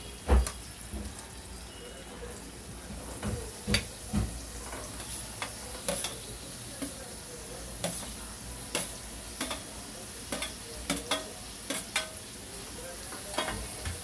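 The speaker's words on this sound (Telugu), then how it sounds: "ఇప్పుడు బీరకాయలు వేసుకుందామండి" Ridge gourd pieces hit a pan of frying onion and tomato, giving a steady, quiet sizzle broken by scattered ticks and clinks of stirring, with no one talking.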